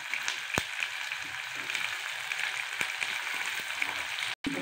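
Onions fry in a pan with bay leaf for rajma, making a soft, steady hiss with a few sharp clicks, close but quiet, and no talk.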